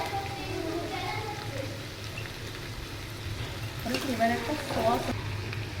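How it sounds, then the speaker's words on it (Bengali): Capsicum and chili fry in a pan with salt, a steady crackling sizzle, while a person talks briefly over the cooking noise near the end. "এইটা এখন একটু ভাজা হতে থাকুক"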